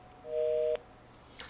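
Telephone busy signal after a dropped call: a steady two-tone beep held for about half a second, loud and close, then cut off, leaving quiet line hiss and a faint click.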